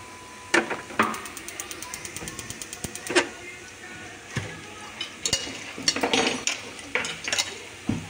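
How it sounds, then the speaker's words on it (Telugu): Eggplant pieces tipped into a pan of fried onions, giving a series of clattering scrapes and utensil knocks against the pan with a faint sizzle beneath, close and moderately loud, spread irregularly over several seconds. "ఉల్లిపాయలు వేగిపోయినాయి, వంకాయ ముక్కలు వేసేసుకుందాం"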